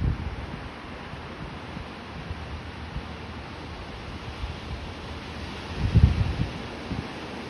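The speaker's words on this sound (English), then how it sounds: "the waves aren't that large today" Small ocean waves break and wash along a beach where a surfer waits with a shortboard, a steady diffuse roar of surf mixed with wind, with a slightly louder surge near the end and no talking.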